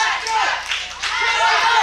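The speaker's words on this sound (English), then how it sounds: "You hear the people cheering him on." Crowd at a CWF Mid-Atlantic wrestling event cheering and clapping, a steady broadband roar of voices and applause that swells and dips over under two seconds, fairly loud and close.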